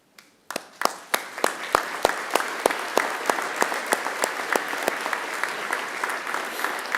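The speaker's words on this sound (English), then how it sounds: "give them a round of applause in thanks" At a university graduation ceremony, a seated audience bursts into a round of applause that starts abruptly and carries on as steady, sustained clapping from a large crowd filling the hall.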